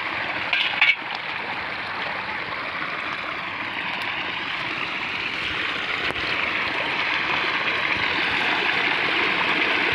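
Steady rush of water onto a bed of onion plants, a continuous close hiss and trickle holding level for the whole stretch, with a brief knock near the start and no talk.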